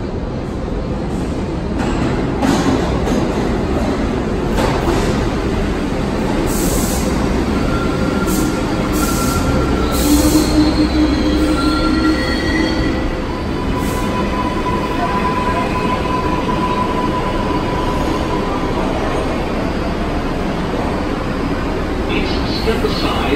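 A New York City subway 6 train on the IRT Lexington Avenue Line rumbles along with high metallic wheel squeals coming and going over a constant roar, the noise lasting throughout.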